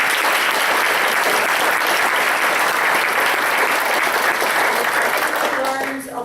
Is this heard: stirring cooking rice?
no